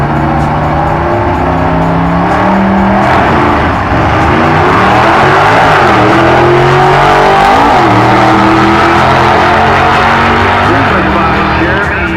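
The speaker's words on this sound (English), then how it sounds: "Dave Lance making another run in the Beretta" A Beretta race car makes a drag run at the track. The engine roars loudly and continuously with rising and falling revs, and an announcer talks over it throughout.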